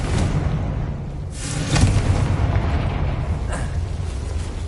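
Fiery Confringo blast spell exploding in Hogwarts Legacy, a loud broadband boom peaking near the middle of the clip over a steady roar, with a fainter burst following later.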